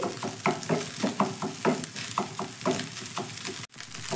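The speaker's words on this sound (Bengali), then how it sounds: "আমি একদমই ছোট ছোট করে ভুজিয়াটা ভেজে নিচ্ছি।" Bhujia frying in a pan, a close sizzle with rhythmic stirring strokes about twice a second, steady and fairly loud with a brief dropout near the end.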